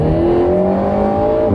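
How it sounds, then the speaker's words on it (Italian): An Alpine A110's four-cylinder engine hums loud and close at a steady pitch, with a rich layered tone and slight variation in revs, alone without talk. "il corposo sound del motore"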